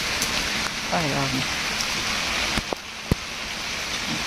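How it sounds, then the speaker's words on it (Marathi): Steady rain falls on a May day in a monsoon setting, a continuous dense hiss close around, with a few sharper drips and a brief voice-like tone partway through. "पाऊस चालू आहे"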